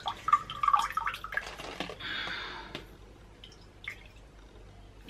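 Water drips and splatters from a wrung-out cleaning cloth into a sink, a close, quiet run of irregular drops and trickles fading to occasional drips.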